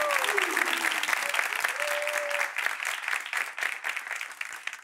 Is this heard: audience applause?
yes